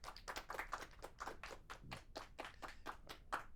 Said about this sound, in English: Let's give him one more clap.